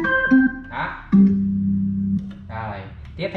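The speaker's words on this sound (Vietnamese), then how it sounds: "cái này là jazz organ này." Jazz organ voice on a Yamaha YDP163 digital piano plays a few sustained chords and held notes, broken by short bursts of someone talking over and between them.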